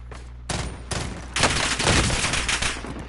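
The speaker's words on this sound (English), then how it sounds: "It's a gun battle." Video-game gun battle at close range, with loud bursts of automatic fire and overlapping shots hammering in dense volleys that build and keep going across the whole stretch.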